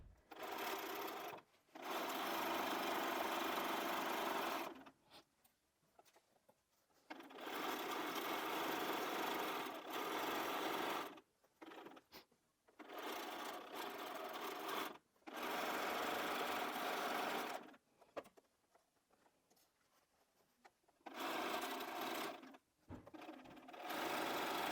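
A sewing machine stitches a seam on a patchwork quilted Christmas tree skirt, running in several sustained whirring stretches of a few seconds each, broken by short pauses and light handling noises.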